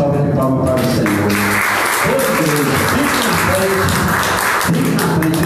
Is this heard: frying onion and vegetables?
no